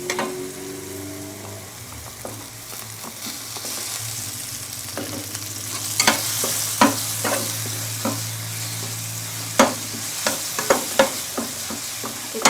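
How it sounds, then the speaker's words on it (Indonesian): Petai beans stir-fried in a pan for village-style nasi goreng hiss steadily up close, while a spatula scrapes and clacks against the pan in repeated sharp strokes that grow busier toward the end, with no voices. "Kita tumis sampai petainya sedikit layu."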